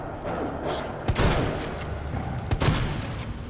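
Two sharp gunshots ring out about a second and a half apart, fired at a dog in an underground parking garage in Resident Evil 2, over dense, noisy game ambience.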